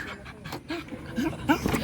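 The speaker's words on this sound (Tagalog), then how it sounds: "Love ko tong aso na to." A dog pants and gives a few faint, high whimpers close by, quiet and brief, with a person speaking softly over it.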